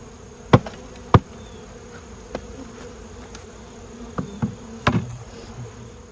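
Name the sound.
honeybees buzzing during fall swarm capture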